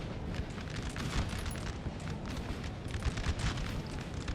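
Continuous rumbling booms of artillery fire from a Napoleon: Total War battle, dense and distant, with overlapping blasts and no clear gaps.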